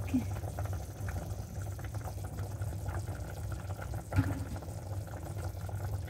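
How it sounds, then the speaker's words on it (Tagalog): Water is added to a cooking pot holding adobo with soy sauce and cornstarch, giving a steady, close liquid rush that runs through the whole stretch. "Lagyan natin ng kunting tubig."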